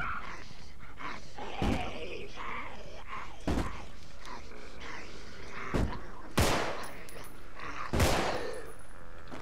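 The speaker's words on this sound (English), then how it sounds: "I will keep shooting." Gunshots from the video game Contagion ring out singly at irregular intervals, five or so sharp loud cracks over steady background game ambience.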